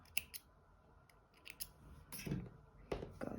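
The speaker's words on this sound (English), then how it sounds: "Cut the yarn" Scissors snip yarn after a crochet granny square is fastened off, several quiet crisp cuts and clicks that come close together, with no talk.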